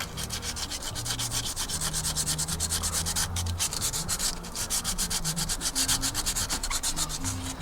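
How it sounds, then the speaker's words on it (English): A radiator on a 100 Series Land Cruiser being sanded by hand with 80 grit sandpaper, a steady rhythmic scratchy rubbing of fast back-and-forth strokes, close and continuous with no talk. "we're gonna use the 80 grit sandpaper just to sand it off"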